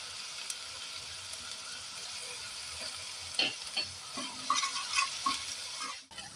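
Onions frying in oil with ginger-garlic paste for Delhi-style chole, stirred with a spoon; a steady soft sizzle close by, broken by scraping stirs and louder crackling bursts toward the end.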